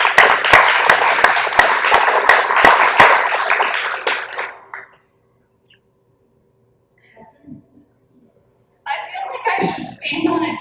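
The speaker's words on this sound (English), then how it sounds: "let's welcome them with a round of applause" A round of applause from an evening audience welcoming speakers, a burst of crisp clapping that fades out after about four seconds, followed by quiet and then people talking.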